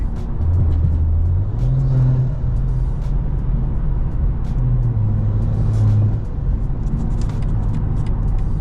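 Low steady BMW M340i engine drone from inside the cabin, with a couple of rising whooshing intake swells as it accelerates on a city street, no talking.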